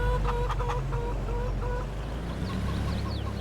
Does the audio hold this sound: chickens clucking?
yes